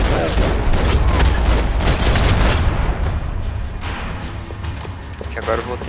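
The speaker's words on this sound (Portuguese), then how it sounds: "E o barulho de tiro dela também tá legal" Gunfire in the video game Max Payne 3, a dense burst of rapid shots and booms over the first few seconds that thins out, with a player talking over parts of it.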